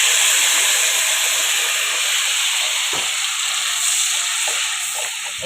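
Onion, ginger and garlic paste fries in oil on an induction cooker, giving a loud, steady sizzling hiss that continues unbroken with no talking.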